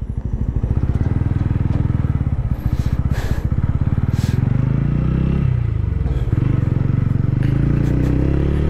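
A TVS Ronin 225 motorcycle engine revs and accelerates up close, its droning pitch climbing, dropping at gear changes, then rising again.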